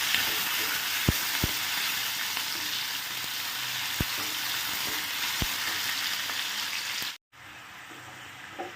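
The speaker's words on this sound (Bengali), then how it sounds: "দিয়ে লো ফ্লেমে এটাকে একটু ভেজে নিতে হবে।" Chopped vegetables fry over a low flame with a constant, close hiss of sizzling oil. A few sharp clicks from utensils break through, and the sound drops out briefly near the end.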